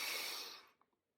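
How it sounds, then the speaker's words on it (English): A slow, deep breath in during box breathing, a soft close airy draw that tapers off into near silence, with no talk. "You're going to breathe in with a 4."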